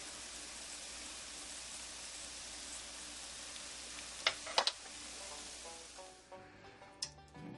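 A fried egg crackling in a pan over hash browns gives a steady, bright hiss like rain for several seconds, with a few sharp pops and clinks of a utensil near the end.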